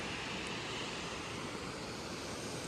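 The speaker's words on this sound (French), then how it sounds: "Omanawa Falls." Omanawa Falls waterfall gives a steady, dense roar of rushing water that stays even and unbroken throughout, with no voices.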